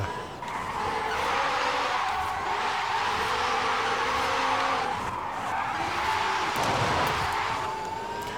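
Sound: electric Hyundai N Vision skidding on handbrake, Forza Horizon 5 video game

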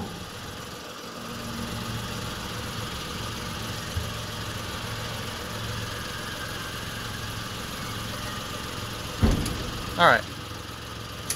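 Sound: 1991 Mitsubishi MiniCab dump truck engine idling, bed moving

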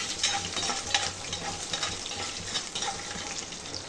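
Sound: frying green chillies, dry red chillies and curry leaves

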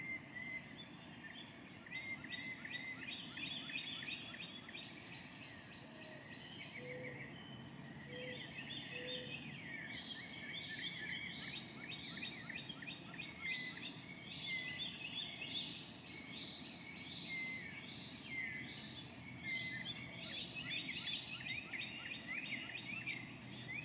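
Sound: morning doves and blue jay singing outdoors

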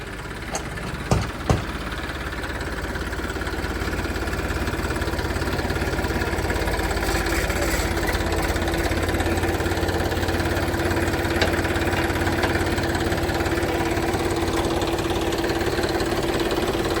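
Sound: Massey tractor engine running

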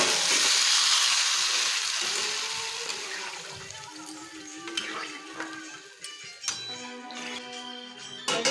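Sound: chicken being sautéed in a pan

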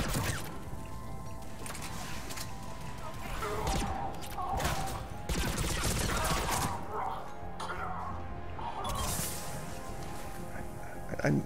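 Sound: assault rifle gunfire in video game Mass Effect 3

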